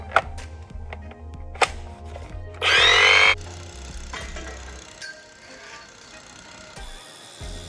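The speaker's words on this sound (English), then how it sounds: "They literally have a tool so that we can drive the stakes into the asphalt" A battery power tool drives stakes into asphalt while prepping party rental equipment, giving a loud, harsh grinding burst of about a second among scattered knocks and clatter.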